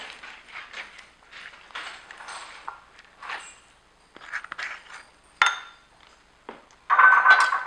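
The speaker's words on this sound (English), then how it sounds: "I'm going to scoop it out of here into the bowl" An avocado is scooped out into a bowl with a series of close, quiet scraping and clinking scoops in irregular rhythm, ending in a slightly louder scrape.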